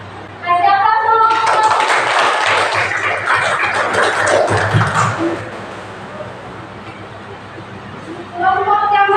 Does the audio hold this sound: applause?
yes